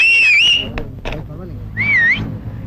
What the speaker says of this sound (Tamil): இது மாமூல் விசில் இல்ல பாப்பா, போலீஸ் விசில்.